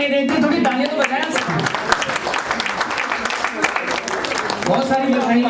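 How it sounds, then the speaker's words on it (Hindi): Audience clapping in applause at an award ceremony in a large hall, a continuous patter of many hands mixed with a voice speaking over it. "थोड़ी तालियां तो बजाएं"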